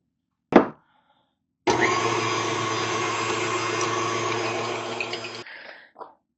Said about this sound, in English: I'll add the other half of the granular sugar to the egg yolks and whisk until pale yellow.